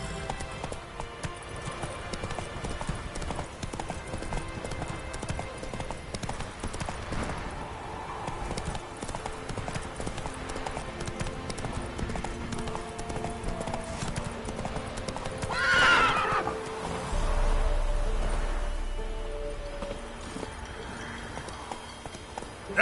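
Roach, the horse in Witcher 3, gallops with rapid, steady clip-clopping hoofbeats over layered game ambience, then gives a loud neigh near the end, followed by a low rumbling swell.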